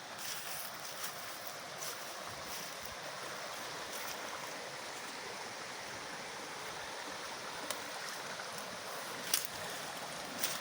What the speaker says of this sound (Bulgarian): Ето я и самата рекичка.